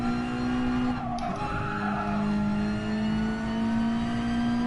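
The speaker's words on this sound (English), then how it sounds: "I'm going into these corners under acceleration, not under braking or lifting." A race car in the GT Sport video game powers through corners under acceleration, a steady engine drone with a rising tone and tire squeal and skidding layered on top, loud and continuous throughout.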